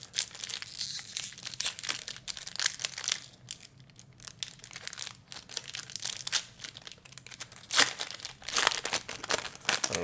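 Sealed foil trading card booster packs from a collector booster box crinkle and tear open close by, a continuous rustle of crumpling wrappers with sharper rips throughout.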